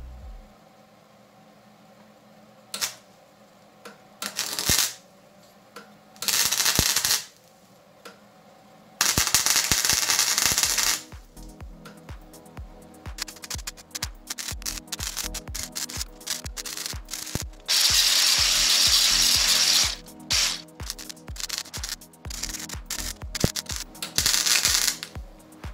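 A misbehaving welder fills a gap in a dented Subaru oil pan. Loud, close crackling hiss comes in uneven bursts of varied length, separated by quieter stretches.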